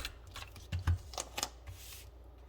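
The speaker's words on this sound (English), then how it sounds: "I'm just going to tape it down" Adhesive tape pulled and pressed down to fix a calendar page: soft crinkling and a few quick tearing strips close by, quiet and without voices.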